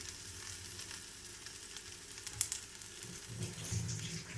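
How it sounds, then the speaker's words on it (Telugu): A poha roti lies on a hot tawa and gives off a faint, steady sizzle with soft crackles and a small knock partway through. "తవ్వ హీట్ అయిందండి, వేసుకుందాము"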